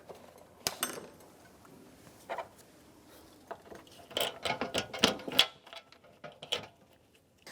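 A bolt being started on a 1992-1996 Ford F-150 radiator cooling fan, with close, irregular metallic clicks, ratcheting and clunks that grow busier toward the end.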